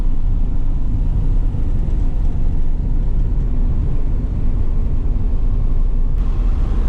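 Classic Porsche 356 driving on an open road, a steady low engine and road rumble heard from inside the car, loud and continuous with wind noise and no talk.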